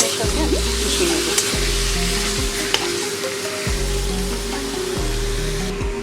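Chicken frying with spices in a pan, a loud continuous sizzle with repeated scraping strokes of a spoon stirring, close and alone without talk.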